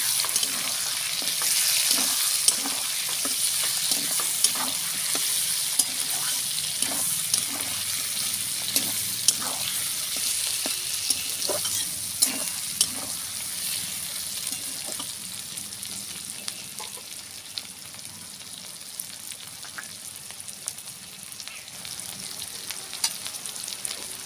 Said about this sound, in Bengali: টমেটোর ভিতরের অংশটা আর অল্প কুচানো পেঁয়াজ এটা দিয়ে দেবো। এটা দিয়েও আমি খানিকটা ভেজে নেব ভালো করে।